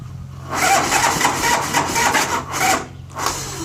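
A Harley-Davidson motorcycle engine cranks and fails to catch, a nearby grinding, rasping starter churn in uneven bursts for several seconds with short pauses between attempts.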